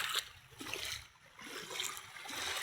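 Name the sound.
walking in shallow sea water at beach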